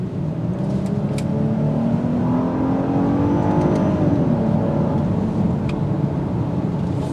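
A 2023 Genesis GV80 SUV engine accelerates with a rising whine, pitch climbing steadily under constant road and motor noise, with a few faint clicks.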